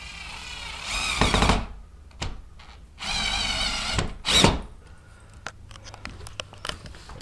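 A power drill drives half-inch number 6 screws, likely while mounting part of a model railway layout: two sustained whirring bursts of several seconds each, a shorter burst after, and scattered clicks and taps between them, close and fairly loud.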